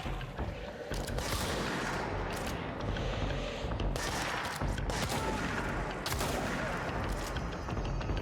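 A shotgun fires in the game Control, with repeated blasts about every second over a dense, noisy combat background that stays loud throughout.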